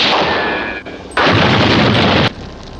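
Gunfire barrage from an Indonesian supernatural action film, a dense, loud continuous rattle of shots that dips briefly and then surges into a heavier second burst before easing off.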